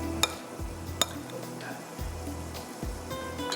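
Food is stirred and mixed in a pan while frying chicken with black pepper, giving soft scraping and a few sharp clinks of utensil on metal over a low sizzle, with a voice talking throughout.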